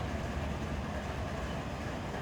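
Train rolling along rails in the Run 8 train simulator game, a steady continuous rumble with rail noise throughout, no voices.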